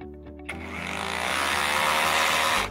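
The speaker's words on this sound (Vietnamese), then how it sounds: "cái khoan nghe nó nhẹ hơn, rồi tiếng đục nó nghe mạnh hơn rất là nhiều nha" A cordless M21-RH2603PLUS rotary hammer chisels concrete, kicking in after a short pause and hammering loudly and continuously for about two seconds before stopping abruptly, close up with no talk.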